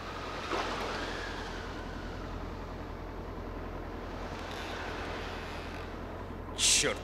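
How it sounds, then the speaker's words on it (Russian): Wind blowing over the open sea aboard a small boat in fog, a steady rushing hiss with low engine-like rumble underneath, constant and moderately loud throughout, with a brief burst of noise near the end. "Черт, ну и ветерок."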